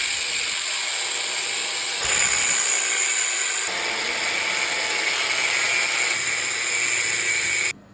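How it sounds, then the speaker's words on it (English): A power tool grinds notches into a 19mm steel socket to make a clutch tool for a Bajaj Pulsar engine, a loud, sustained harsh abrasive whine with slight shifts in pitch before it abruptly stops, no speech. "I'll use this 19mm socket and cut it, make the notches and then use it to open the screw."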